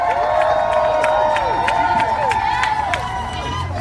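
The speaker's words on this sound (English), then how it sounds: "So let's give them a big old applause" A crowd at a Standing Rock solidarity rally cheers and applauds steadily with shouts mixed in, a dense, loud wash of voices and claps that holds throughout.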